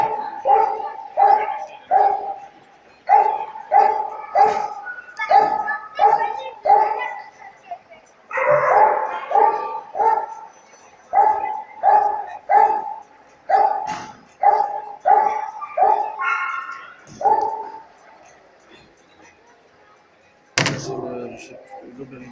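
Dog barking during a dog training trial, loud repeated barks in regular bursts that keep coming with short pauses, then fade near the end before one sharp final sound.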